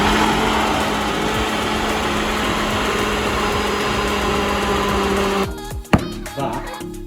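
A kitchen blender whirs loudly and continuously as it mixes a high-protein breakfast with milk. The motor stops abruptly after about five seconds, and a few clattering knocks follow.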